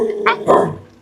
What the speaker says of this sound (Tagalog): Meron akong aso